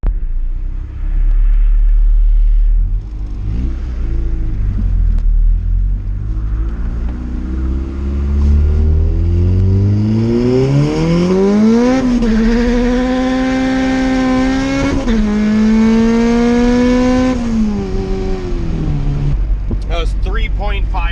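A turbocharged Honda Civic engine revs hard through acceleration pulls, its pitch climbing steeply, easing off briefly, then climbing again, loud and close with a deep rumble underneath.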